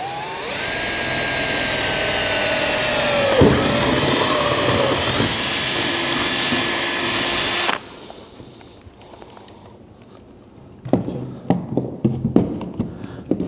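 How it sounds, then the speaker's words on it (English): A loud, steady power drill whines continuously for several seconds with pitch shifts as it bites through a hole in a Tokyo Marui VSR-One airsoft rifle, then stops, followed by quieter clicks and handling taps. "as long as you put the drill bit centered through that hole"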